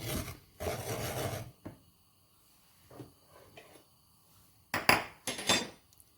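Cashews, almonds, pistachios and walnuts are lightly roasted in a pan with a little oil, heard as intermittent scraping and rasping strokes with short pauses between, louder bursts at the start and near the end.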